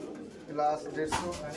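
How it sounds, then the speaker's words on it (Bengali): Giribaz pigeons coo at a loft in Murshidabad, West Bengal, with birds perched on the loft roof. Soft throaty calls rise and fall close by over a murmur of background voices. "এই যে পায়রার ঘরের চালের উপরেও পায়রা আছে"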